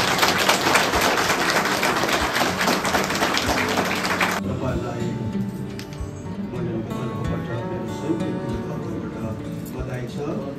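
Wedding guests clap together in a burst of applause that fills the room, loud and dense at first and then cut off, after which a voice carries on speaking over quieter background sounds.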